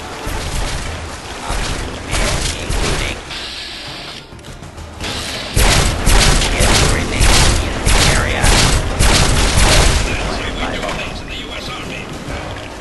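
Repeated gunfire from enemies in a Fallout 3 firefight, with dense bursts of shots and clattering mechanical sounds, loud and continuous, busiest in the second half, mixed with game noise and occasional talk.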